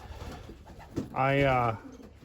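A pigeon gives one clear, close coo after some faint background murmuring, with no talk over it.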